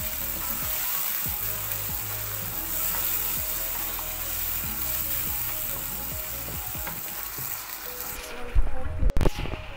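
Boiled mutton (gosht) fries with bitter gourd over a high flame, giving a steady close sizzle broken by repeated scraping stirs of a spoon in the pan and a few clatters near the end.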